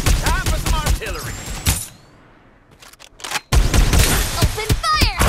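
Gunfire and artillery from the Farlight 84 battle royale game, dense bursts of shots and impacts in a loud, busy mix, dropping briefly to quiet before the firing resumes.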